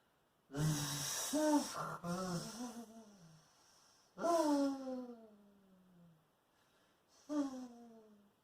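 A human voice imitates a rat snoring, making three breathy snoring snorts with falling pitch separated by short pauses, quiet and close.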